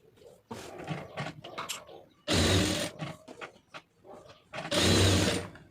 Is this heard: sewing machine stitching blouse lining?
yes